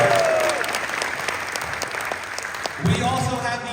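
Steady applause from a Comic-Con panel audience in a large hall at San Diego Comic-Con, filling the room for a few seconds with brief cheers rising near the end.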